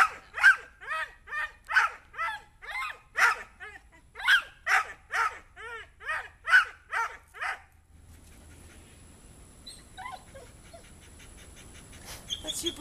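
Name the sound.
dog barking and whimpering, throwing a tantrum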